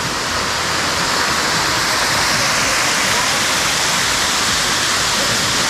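Waterfall on a tributary of the Cari River near Morretes, a loud, steady, close roar of falling water that fills the whole clip without a break.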